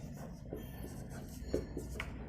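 Pen or chalk writing out algebra during a Class 12 integrals maths lesson, a steady faint scratching with a few sharper strokes against a quiet room hum.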